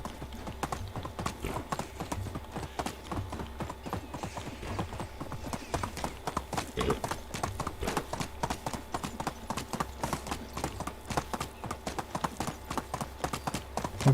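A horse's hooves clip-clop steadily in the medieval village game Medieval Dynasty, a brisk even rhythm of close, crisp hoofbeats running for the whole stretch, with no talk.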